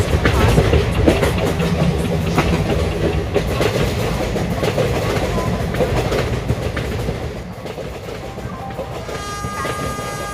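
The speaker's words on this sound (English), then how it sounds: "12655 Humsafar Superfast Express is arriving at platform number 2." Humsafar Superfast Express train pulling into a station platform: a loud, steady rumble of rolling wagons with rhythmic clickety-clack over the rails, fading slightly toward the end, with no clear voices.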